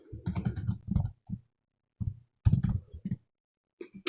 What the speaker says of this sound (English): Now we can type something here.